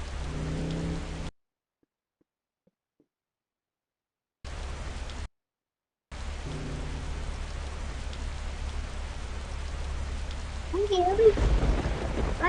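Steady rain hisses across a driving scene in an Indian GTA-style video game, broken by two stretches of near silence, with a brief voice-like tone late in the clip.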